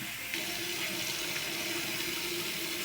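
Hot water runs steadily from a bathroom tap into a sink during a shave, a continuous close hiss and splash that carries alone through the whole stretch.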